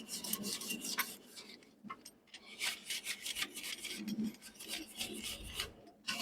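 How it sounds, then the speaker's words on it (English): A wire brush scraping a Kamado grill part held over a bucket, quick close rasping strokes in irregular bursts with brief pauses, no talking. "simply use a wire brush to scrape off anything that's stuck to it"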